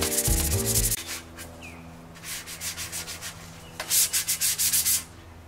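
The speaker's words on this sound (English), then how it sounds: "Sandpaper works better than a wire brush, but a wire brush works better than not." Sandpaper rubbing over a metal light pole before painting, heard as close rhythmic scratching strokes in two bursts, with a short musical tone at the start and no voices.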